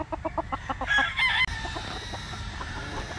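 A rooster at a gamefowl farm crows loudly and close by, with clucking from other fowl around it.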